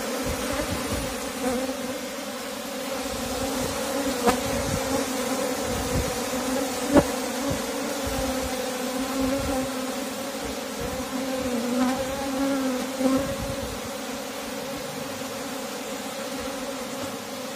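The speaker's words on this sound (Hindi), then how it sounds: "तो आप देख सकते हैं किस तरह बहुत ही तेज़ी से अपनी वाइब्रेशन करके उन्हें मधुमक्खी सारी बॉक्स में गई" Asian honey bees (Apis cerana) buzz steadily around and into a hive box fitted with a queen gate, a dense droning swarm with a few closer passes rising above the continuous hum, no voices.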